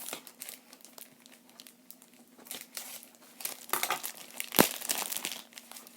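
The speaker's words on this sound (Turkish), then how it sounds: "Şimdi dergiyi sizlerle birlikte açacağım. Evet makas ile açacağız." Plastic wrapping around a magazine being cut and pulled open with scissors, a close, steady run of crinkling and crackling with one sharp louder snip-like tear near the end.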